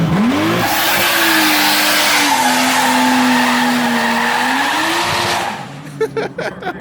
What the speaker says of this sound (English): so you just send her one more burnout out and unhook it